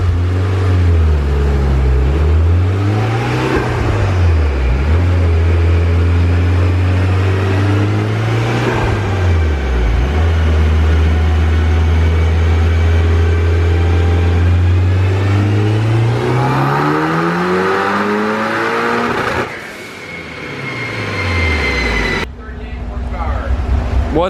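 A tuned Mitsubishi Evo 5 on a dyno roars through repeated rev sweeps at around 28 psi boost, the engine note rising and dipping several times before a hard climb and sudden cutoff, with people talking under it.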